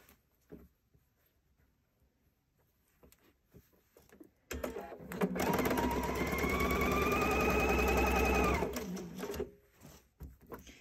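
A sewing machine sews the row seams of a patchwork. After a few quiet handling clicks it runs for about four seconds as a loud, steady, close whir, then stops.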